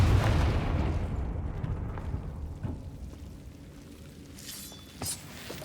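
The Confringo explosion spell in Hogwarts Legacy, a deep rumbling blast that opens loud and slowly fades into a low roll, followed by a sharper bright pop near the end.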